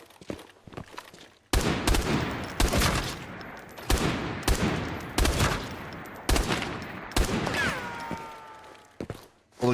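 Repeated full-auto bursts from a gun in Arena Breakout: Infinite, six or seven loud, closely spaced volleys separated by short gaps, with faint footsteps and gear sounds in between.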